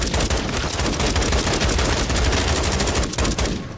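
Rapid sustained automatic gunfire in the video game Call of Duty: Modern Warfare 3 Zombies, a loud dense stream of shots with a brief break near the end.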